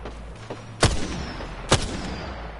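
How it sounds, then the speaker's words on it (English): Two sharp, loud gunshots ring out in a video game shooter about a second apart, each with a short echoing tail over a low background hum. "Why are you shooting at me?"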